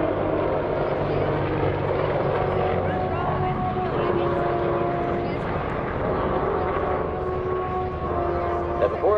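Steady, loud rotor and engine roar of Apache helicopters flying nearby at an airshow combined arms demonstration, a constant throbbing drone with no pauses.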